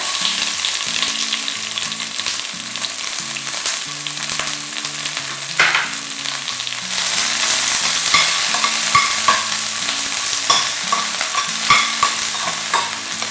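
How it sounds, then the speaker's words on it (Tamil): Red chillies and shallots sautéed in a pan for a green mango and coconut chutney, with a steady loud sizzle and repeated stirring scrapes, while background music plays throughout. "இந்த ரெண்டுத்தையும் நல்லா வதக்கணும்"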